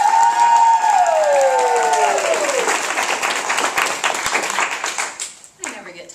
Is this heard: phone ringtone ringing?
no